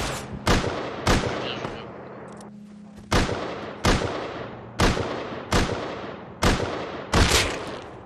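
Gunshots fired in the survival video game Rust, about seven sharp loud cracks spaced roughly a second apart, with a brief pause midway and no talking.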